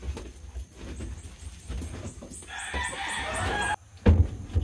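A chicken clucks and calls in a few short, close bursts, including a longer raised cackle midway, over a backdrop of household rustling and bumps, with no clear talking.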